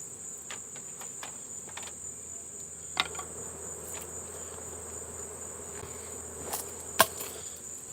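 Honeybees buzz steadily around an open, active hive during honey harvesting, a constant low hum with a high whine above it and a few light clicks and taps.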